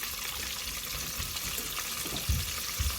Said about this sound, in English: Drop in, go. All right. Sizzle, sizzle, baby.